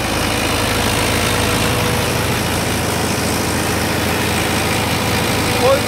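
A Sonalika 60 DI tractor, rated about 55 HP, runs steadily near 1500-1600 rpm with an even, continuous diesel drone that stays close and loud for the whole stretch, without a break.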